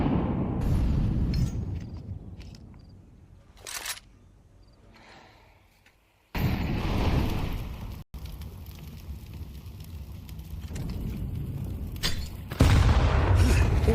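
An HE grenade blows up in a Counter-Strike esports match: after a quieter stretch, a heavy boom hits at once and leaves a dense, loud roar of gunfire and game noise that continues to the end.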